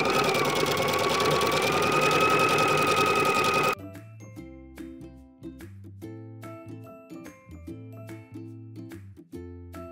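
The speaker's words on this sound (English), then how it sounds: "we want the zigzag stitch to go on the fabric and off the fabric so that way it is binding the edge of these raw edges" A sewing machine runs a zigzag stitch along the raw edge of sweater fabric, first as a steady, loud continuous whir, then as a series of short, rhythmic bursts of stitching with brief pauses between them.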